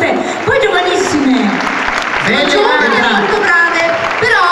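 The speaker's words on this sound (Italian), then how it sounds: "vogliamo fare un applauso a queste voi giovanissime" Festival audience applauding young dancers at a song festival in Piombino, a dense sustained wash of clapping with a presenter's voice speaking over it throughout.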